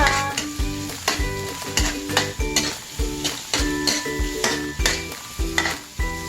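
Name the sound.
onions being sautéed in a pan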